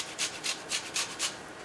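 A lime is zested for key lime pie: about five short, rhythmic rasping strokes of fruit peel scraped across a grater, close and fairly quiet in a kitchen.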